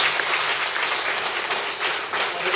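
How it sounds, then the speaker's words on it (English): Audience applause at a roundtable dialogue on HIV and law in Kathmandu, a steady wash of clapping from many hands holding at a moderate level throughout without speech. "She definitely deserves a good round of applause from all of us."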